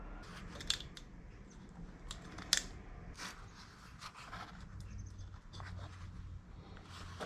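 A metal rack section for an ATV is cut by hand: close, sharp snipping and scraping clicks, a few louder, over a steady low background hum.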